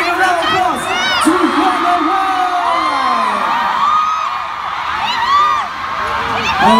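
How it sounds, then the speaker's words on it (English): Large fan crowd at a K-pop concert in Malaysia cheering, screaming and whooping loudly in a continuous, close roar with high shrieks rising above it, and people shouting through it. "Let's give a big round of applause to"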